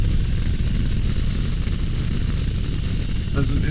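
A 2022 Harley-Davidson Low Rider ST rides along with choppy wind buffeting loudly over a low, steady engine drone, which is mostly masked by the wind.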